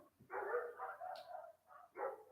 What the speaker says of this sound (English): Confirmation from the dogs.